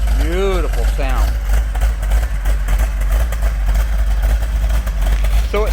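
A Plymouth 'Cuda with a 440 six-pack V8 rumbles steadily at close range, a deep continuous idle carrying the whole time while a voice talks briefly at the start.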